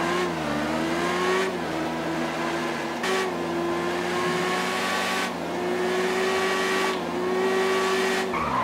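A green Kawasaki Ninja motorcycle ridden in GTA 5 revs hard, its engine note climbing and then dropping at each gear shift every second or two, loud and close with no talking.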